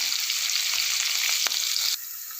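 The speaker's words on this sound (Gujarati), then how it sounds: "હિંગ નાખી દેશું લસણ છે ઇલાયચી છે લવિંગ છે નાની ઇલાયચી છે તજ છે એ વઘારમાં નાખીશું આપણે" Whole spices, including cloves, cardamom, cinnamon and asafoetida, sizzle in hot oil for tempering, a loud continuous frying hiss with a sharp clink and a drop in intensity near the end; no speech.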